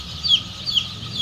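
Kroiler chicks in a brooding pen in Barpeta, Assam, giving repeated high, thin peeps over a low steady background hum, fairly close.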